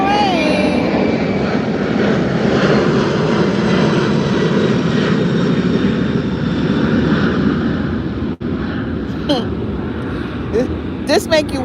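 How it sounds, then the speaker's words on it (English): Airplane passing overhead above a backyard, a broad steady engine drone filling most of the stretch, with bird chirps and small yard noises near the end. "here comes the plane"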